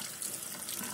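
Tap water runs steadily in a brief, close, continuous splash over a hard flatbread held under the faucet, with no voices.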